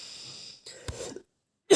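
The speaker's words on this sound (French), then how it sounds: "je tousse très très peu" A couple of short, sharp coughs close to the microphone, separated by brief pauses, with no talking.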